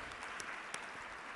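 A church congregation at a Pentecostal service in Govindapalli claps together in a steady wash of applause, moderately distant and fairly faint, with a couple of sharper claps standing out.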